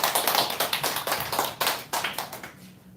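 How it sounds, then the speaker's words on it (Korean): Audience clapping at a Korean church gathering during a sermon, a burst of sharp, rhythmic hand claps from a modest crowd, close and fairly loud, tapering off toward the end. "오늘 박수 다시 한번 더 쳐"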